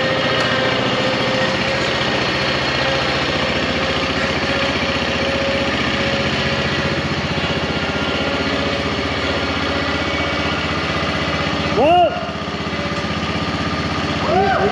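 A lawn tractor's small engine drones steadily throughout at a loud, constant level, with a brief voice near the end.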